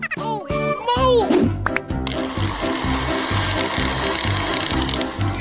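Countertop blender purees smoothie ingredients, its loud motor roar churning steadily after a voice and a brief clatter at the start.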